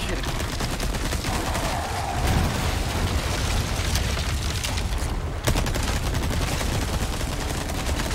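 Gunfire in Resident Evil 4 Remake, a dense, loud barrage of shots and heavy booms rolling on for several seconds with hardly a pause, close and continuous.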